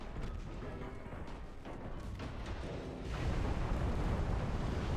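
A torpedo strikes a ship in the naval warfare game Ultimate Admiral: Dreadnoughts, with a deep, rumbling explosion swelling up about two-thirds through and holding at a steady roar over background rumble.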